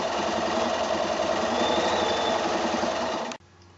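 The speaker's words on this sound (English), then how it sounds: "So I've done all my stitching lines on the handle." A sewing machine stitching lines on a quilted shoulder bag handle hums loudly and continuously, then stops abruptly just before the end.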